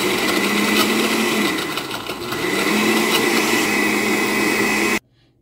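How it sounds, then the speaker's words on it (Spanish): Kitchen blender whirring loudly and steadily as it blends a Nescafe and Oreo frappe with milk and water, the motor pitch dipping briefly mid-run before cutting off abruptly near the end. "Ya lo tengo listo, aquí lo voy a tapar y pues a licuar."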